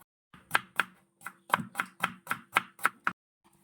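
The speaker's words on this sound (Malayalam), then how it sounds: "സവോളയും കൂടെ ഒന്ന് സ്ലൈസ് ചെയ്തെടുക്കുകയാണ്." A knife slices onions on a cutting board in about ten crisp, evenly spaced chops, close and distinct, with silence between strokes.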